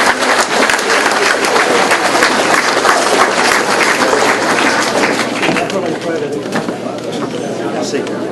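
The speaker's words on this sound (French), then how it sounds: "Bonne main d'applaudissement, M. René Gagné." Loud, continuous applause rises from the crowd at a 2013 volunteer tribute ceremony in Princeville, honouring a volunteer with many hands clapping close and steadily for several seconds.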